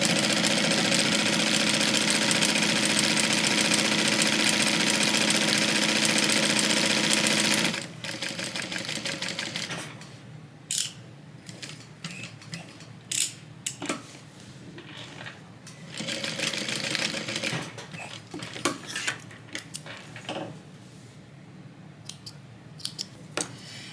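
A sewing machine stitches a shoulder strap for a TriBeca tote in a long, steady run, then stops and resumes in shorter bursts among small handling clicks and taps.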